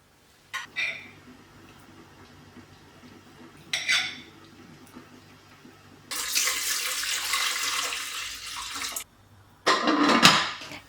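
Water runs from a tap into an electric rice cooker in a home kitchen, with a few brief clinks of the pot before a steady three-second stream and a short final splash.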